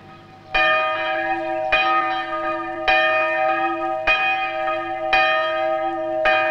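A church bell cast in Germany and brought over in 1860 to a remodeled Lutheran church in New Zealand tolls steadily, about five loud strikes with ringing overlapping hum, no voices.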